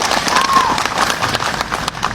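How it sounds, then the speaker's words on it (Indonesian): A crowd at a political gathering applauds activists, dense clapping mixed with crowd murmur and some voices, loud and continuous. "beri tepuk tangan dong buat para aktivis di sini"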